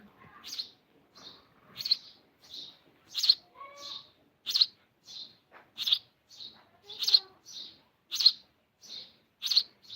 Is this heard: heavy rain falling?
no